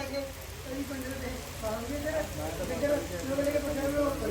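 Steady rain patters on a surface with a constant hiss, while indistinct voices murmur underneath throughout.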